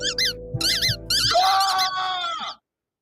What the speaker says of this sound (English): That squeaking was actually the sound of a chew toy for a dog.